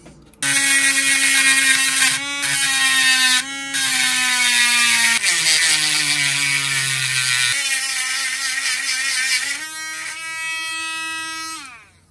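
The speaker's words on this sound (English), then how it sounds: "now we got to grind these pins down" A high-pitched power grinder whines loudly while grinding down the metal handle pins of a broken knife, with its pitch dipping and rising under load across several passes before spinning down at the end.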